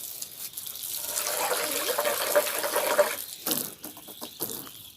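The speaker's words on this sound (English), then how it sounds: "So I decided to put some water." Tap water runs onto a hot floor during a 40-degree heatwave, a steady hissing splash for about three seconds that breaks off, then resumes in short spurts with some faint background noise.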